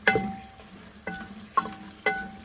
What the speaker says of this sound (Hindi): किंग ऑयल मैंने ऐड कर लिया है और अब इसमें मैं एक प्याज ऐड कर रही हूँ